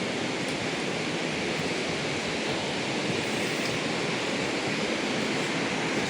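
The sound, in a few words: flowing Marsyangdi river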